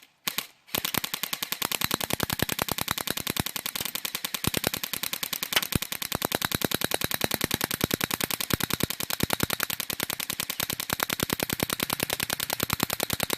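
Full-auto fire at 350 FPS, likely airsoft or paintball, hits a Bear Brothers Tech Bear Sight V2 shield 10 feet away. A dense, even stream of rapid sharp cracks runs unbroken after a brief opening burst.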